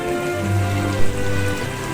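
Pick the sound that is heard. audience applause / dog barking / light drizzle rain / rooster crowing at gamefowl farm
light drizzle rain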